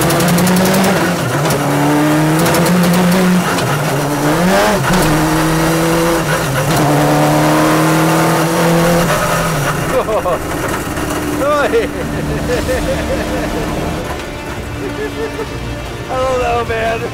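Motorcycle-engined LeMons race car revving hard in first gear, engine pitch climbing and falling in loud repeated pulls, with tire noise and someone talking over it; the engine drops back toward a high idle near the end.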